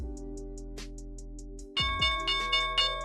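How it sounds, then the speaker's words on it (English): A stock market opening bell rings in a rapid series of bright, resonant electronic dings, steady at first, then louder strikes with rich ringing overtones, close and clear with no talking. "here's the opening bell"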